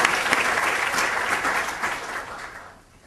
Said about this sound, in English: give a round of applause to Sally Ryder for organizing all of this for us